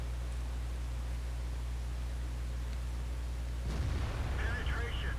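A tank cannon fires in a tank video game. A sudden sharp blast breaks through a steady low engine rumble, then a rough, noisy tail follows.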